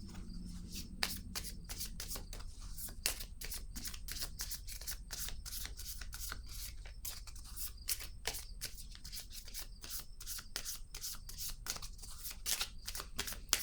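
Oracle cards being shuffled by hand, a fast, continuous run of crisp riffling snaps and rubbing flicks at close range, quiet overall with no talking.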